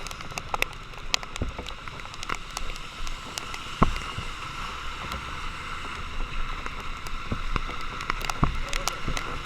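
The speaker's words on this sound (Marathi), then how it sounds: "पाऊस आलेला आहे मित्रांनो" Heavy monsoon rain near Lonavala pours steadily, a dense broadband hiss of drops with scattered sharper splashes and patters close by, continuous throughout.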